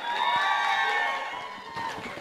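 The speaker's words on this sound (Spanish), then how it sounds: "¡Aplausos al número 5!" Crowd at a bull-riding championship in Cubujuquí cheering and applauding, a dense burst of shouts and whoops that fades slightly before a second swell of clapping.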